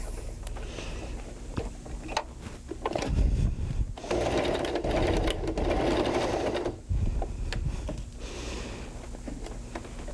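A sewing machine stitches fabric in a home workshop, its close, rapid mechanical whir running in bursts that start and stop, with handling clicks between runs.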